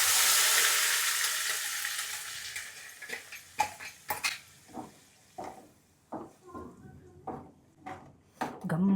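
Masala spices with bay leaf, fennel and cardamom sizzling in hot oil in a pan for paneer masala, a loud initial hiss fading into repeated stirring scrapes and clinks.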